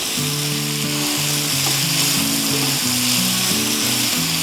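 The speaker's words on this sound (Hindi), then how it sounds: "इसको हम 1 मिनट के लिए सौते करेंगे।" Chopped carrots and boiled peas sauté in a pan for chicken chow mein, giving a steady, close sizzle that runs throughout with a tonal musical backing underneath.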